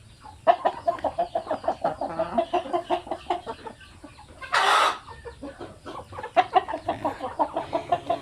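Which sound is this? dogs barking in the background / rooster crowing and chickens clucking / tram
rooster crowing and chickens clucking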